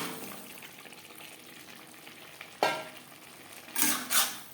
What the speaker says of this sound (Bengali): মশলার সাথে আলু পটল বেশ ভালো করে মিক্সড করে দেবো